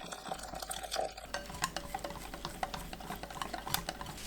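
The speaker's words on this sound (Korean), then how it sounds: "메밀 부침가루 50g 넣고 섞어줍니다" Buckwheat pancake batter with mugwort and sliced chili peppers gets stirred in a bowl, a quiet, continuous scraping and clinking of a utensil with soft wet mixing sounds.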